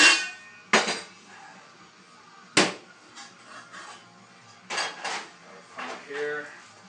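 Metal pots and pans clatter and clank nearby, a few sharp knocks followed by softer rattling and scraping as cookware is moved around.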